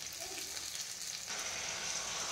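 Tomato and coriander stems fry in a pan with a steady, soft hiss that grows fuller partway through, with no talking.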